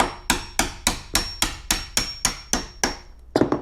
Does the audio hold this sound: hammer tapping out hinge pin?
yes